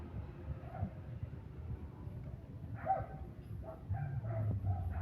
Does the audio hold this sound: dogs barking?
yes